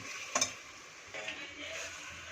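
Chicken sautéing in a little oil with mustard seeds and curry leaves, giving a soft steady sizzle with a couple of brief spoon clinks near the start, fairly quiet.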